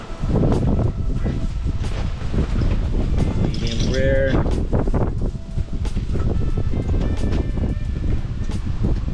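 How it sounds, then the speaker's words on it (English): Strong wind roars and buffets the microphone throughout, with a person speaking briefly over the steady blustery rumble. "It's crazy windy right now."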